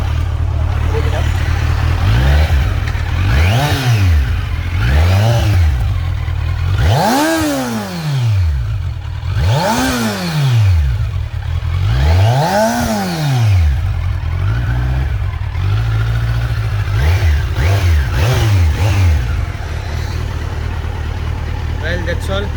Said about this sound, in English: Let my punter come and just rev it up